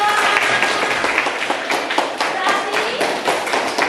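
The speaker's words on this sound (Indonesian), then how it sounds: "Beri tepuk tangan untuk aku." Classroom applause from students, a dense continuous clatter of many hands clapping for about four seconds, fairly loud and steady with no voices standing out.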